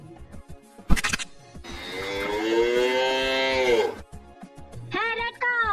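A cow moos loudly and close for about two seconds, a long rising and falling low call, followed by a brief second higher moo, with short knocks and a sharp click before it.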